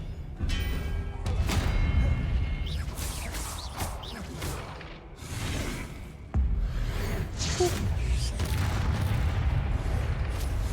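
Confringo fire spells blasting in Hogwarts Legacy combat, a loud, dense run of booming thuds and swooshing whooshes that keep coming with short pauses between them.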